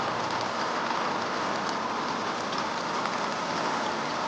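Steady rain falling, a dense, even hiss of drops at constant loudness throughout, with no voices or other sounds on top.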